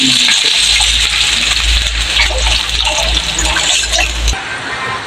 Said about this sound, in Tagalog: at lalagyan na po ni Tito Deo ng tubig.